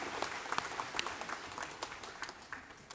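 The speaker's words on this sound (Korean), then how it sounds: "박수로 하나님께 드리겠습니다" A congregation claps together during a Sunday second service at Daegu Hana Church, giving a dense, steady wash of many hands that holds for the whole stretch and fades slightly toward the end.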